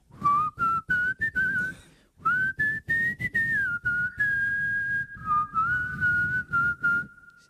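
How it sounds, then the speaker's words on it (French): A person whistles a wavering, sliding melody in short repeated bursts with brief pauses, close and clear, in a playful setting with no speech during the whistling. "Tu arrives à faire de l'écho quand tu siffles."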